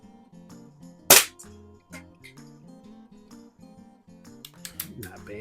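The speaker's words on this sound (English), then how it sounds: "I'm going to shoot to the right-hand side out in the white." A Crosman air rifle fitted with a micro red dot sight fires at a paper target: one sharp, loud crack near the start, then a few fainter clicks, all over continuous background music.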